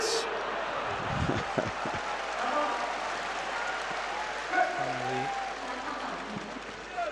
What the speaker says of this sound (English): Crowd enjoying this. Crowd is nice appreciating to see.